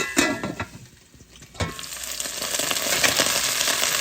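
Lamb karahi ingredients sizzle and crackle in a hot pan, with a few scraping stirs near the start before the frying settles into a steady, broad hiss.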